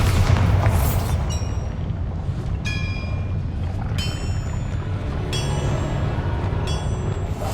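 A Bombarda explosion spell goes off in Hogwarts Legacy: a loud, sustained booming roar with several sharp ringing bursts layered on top, continuing throughout.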